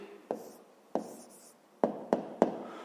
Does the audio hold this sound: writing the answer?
yes